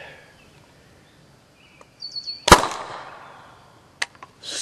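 An airsoft projectile grenade shell fires outdoors on a calm, humid day with a single sharp, loud bang that decays quickly, followed by a few fainter pops, with birdsong faintly in the background.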